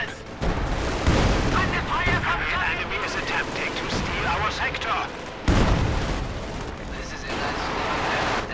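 Light machine gun fire and battlefield combat from Company of Heroes 2, Soviet conscripts shooting in a 2v2 match, a dense continuous clatter of shots and booms filling the whole stretch, with a short dip near the middle.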